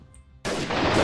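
A gunshot in the video game Freeman: Guerrilla Warfare, a loud sudden blast after a brief near-silence, followed by a sustained ringing roar.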